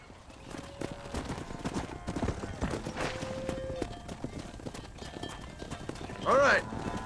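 Horses trot in the Red Dead Redemption video game, with rhythmic hoof clip-clops over a dusty trail beneath a voice, a brief whinny near the end, and ambient game sound.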